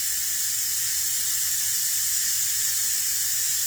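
Steady, loud hiss of steam rising from a pot of Southern greens cooking on the stove, a continuous bright rush with no pauses and no voices.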